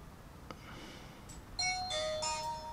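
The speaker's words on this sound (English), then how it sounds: "sound when you turn on." A Xiaomi Mijia 4K action camera plays its power-on chime, a short sequence of faint electronic beeps and tones rising over a quiet background hiss.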